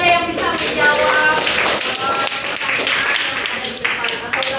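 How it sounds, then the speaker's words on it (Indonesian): Applause in a classroom as pupils clap for a student who answered a teacher's question, a dense burst of many hands clapping steadily throughout with a teacher's voice audible over it. "tepuk tangan untuk nada yang bisa menjawab"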